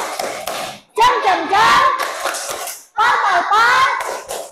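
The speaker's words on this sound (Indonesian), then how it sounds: "Wah, bagus, tepuk tangan." Students in a classroom applaud in two loud bursts of hand clapping, each lasting about two seconds, mixed with children's voices and cheering.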